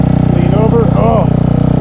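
A Honda CBR250 motorcycle ridden by a first-time rider drones steadily and close at a constant engine pitch for nearly two seconds, with a voice calling out over it before the engine note drops away at the end.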